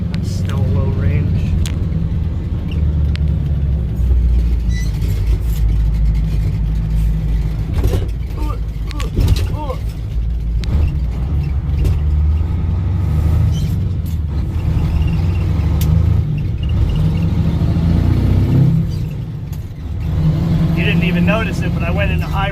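A 1985 Ford F-8000 truck with a CAT 3208T diesel engine drives on a back road with air brakes, shifting gears. A heavy, constant low engine drone rumbles throughout, with brief dips at the shifts and occasional talk over it.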